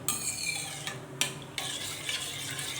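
A tamarind and jaggery chutney bubbles softly in a pan, with a close, continuous low sizzle broken by a few sharp scraping stirs of a spoon against the pan.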